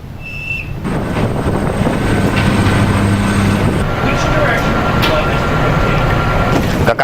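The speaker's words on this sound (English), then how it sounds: "Rekaman video menunjukkan awak dek penerbangan mengarahkan jet tempur untuk lepas landas." Fighter jets take off from an aircraft carrier deck in the Strait of Hormuz, making a loud, sustained roar that builds and fills the whole stretch, with a voice speaking over it.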